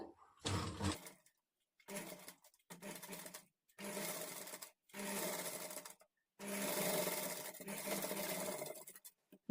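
A sewing machine stitches a princess cut blouse in a series of short whirring runs, each a few seconds long, separated by brief silent pauses, close and clear, with the final run the longest and no talking.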